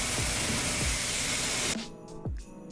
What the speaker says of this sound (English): So I'm going to spray this off